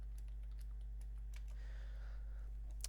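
Someone types on a computer keyboard, entering text into a web browser. The quiet key clicks come in a short irregular burst, with a fuller patter midway and a slightly louder final keystroke over low electrical hum.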